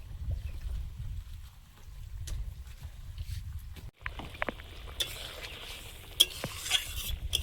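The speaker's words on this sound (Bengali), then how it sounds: "ঝোলটা ফুটে গেছে, মুইঠাগুলো দিয়ে দেবো।" Fish muitha dumplings dropped into boiling curry gravy in a Bengali kitchen: a low bubbling simmer, then a brief thump and wetter splashing and sizzling as the pieces go in, with soft scraping of a spoon.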